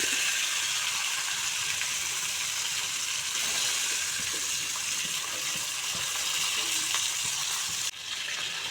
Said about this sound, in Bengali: মাছগুলোকে হালকা ভাজবো।